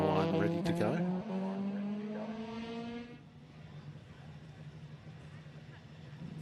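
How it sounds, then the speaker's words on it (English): A Datsun 1200 race car at a sprint event revs with a rising engine note before launching, then its sound drops into a broad, fading rumble under continuous commentary. "That'll be Jack Bridie's Datsun 1200 about to launch"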